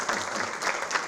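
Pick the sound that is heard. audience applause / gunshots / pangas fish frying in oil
audience applause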